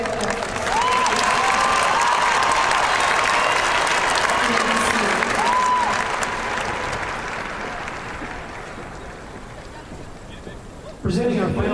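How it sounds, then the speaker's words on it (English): Sustained applause from a large graduation audience for high school students at a 2017 ceremony, loud and steady at first, then gradually thinning and fading, with a public-address voice over the clapping. "Please applaud these students for their efforts."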